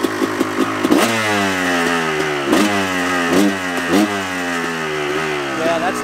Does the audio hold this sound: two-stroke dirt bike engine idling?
yes